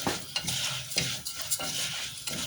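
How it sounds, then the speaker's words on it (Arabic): Orzo pasta stirred in a pot for orzo soup, with a spoon scraping and clinking against the metal in rhythmic strokes over a soft sizzle, close and fairly loud. "اقلب بقى في لسان العصفور"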